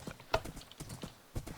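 A horse's hooves clop in an uneven galloping rhythm across the ground during a 100-meter sprint time trial in Minecraft, moderately loud and close with no talk.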